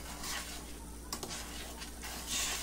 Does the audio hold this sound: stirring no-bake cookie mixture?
yes